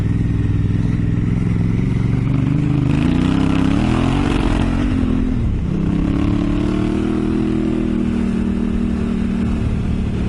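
Honda Africa Twin motorcycle engine revving and pulling hard on a sandy, loamy off-road trail, loud and close throughout with rising and falling pitch as the rider accelerates, plus some clatter.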